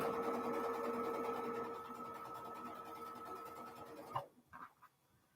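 A sewing machine stitches rows of quilt blocks for a stretched star pattern with a quiet, steady whirring hum, then stops abruptly near the end, leaving a few soft handling noises.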